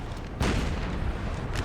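Cannon artillery fire in a Napoleonic-era Total War battle against Prussian lines: a heavy boom lands early, then a rumbling tail, with another shot starting near the end.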